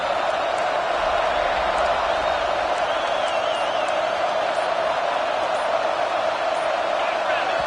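Loud, steady crowd roar fills a stadium at a college football game on a third down, a sustained wall of noise with no breaks from start to finish.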